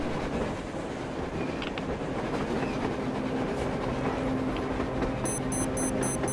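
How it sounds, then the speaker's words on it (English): A train rolls across the surface in the video game Metro Exodus, a continuous low rumble with faint clanks and rail clatter, steady and moderately loud, with a brief high electronic beeping near the end. "A damn train on the surface!"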